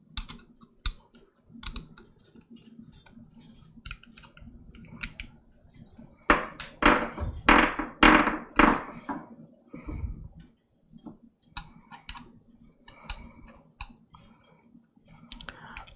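Small shallow screws being backed out of a Seagate laptop drive in an Asus ROG Strix G731 with a hand screwdriver produce close, faint clicks and ticks, with a denser burst of scraping clicks partway through.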